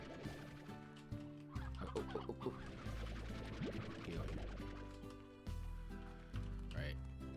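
Hens clucking in the video game Slime Rancher, a run of short, repeated clucks over a steady musical backdrop, with someone speaking underneath at times.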